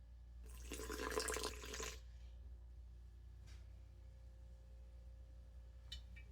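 Water is poured briefly into a sourdough starter jar in a kitchen, a soft splashing pour lasting about a second and a half, followed by near silence and a couple of faint drips or clinks.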